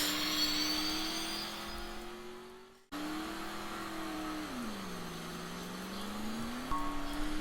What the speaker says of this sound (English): So here's what boost looks like with the McLaren P1. From the middle exhaust pipe.